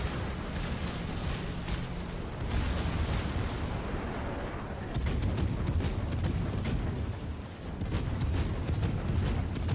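Naval gunfire in World of Warships from the British cruiser HMS Minotaur, dense rumbling booms and cracking shots rolling continuously, loud and busy, with sharper repeated blasts in the second half.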